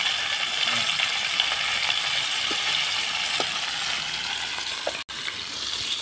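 Snakehead fish sizzles and crackles steadily in oil in a pan, a continuous frying hiss with a few faint clicks and no talking.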